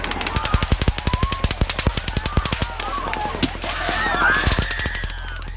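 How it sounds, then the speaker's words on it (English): Rapid bursts of automatic gunfire fired into an outdoor concert crowd, dense loud cracks in quick succession for several seconds, then a noisier stretch of screaming and shouting from the crowd. "A fourth round of shots hit the crowd."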